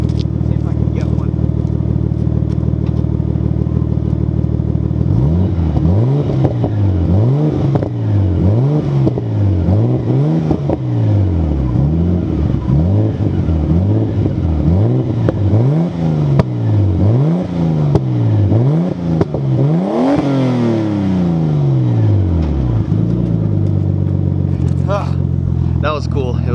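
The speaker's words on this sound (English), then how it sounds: "Ooh, the exhaust sounds so good." A Nissan R33 Skyline exhaust revving repeatedly in rising and falling bursts, loud and close, with pops on the overrun and a person talking over it.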